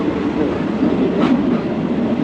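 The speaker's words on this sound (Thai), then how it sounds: "รถไฟกำลังออกจากสถานีชลบุรี" Loud, steady rumble of a train departing Chonburi station, a broad continuous roar with a brief hiss in the middle.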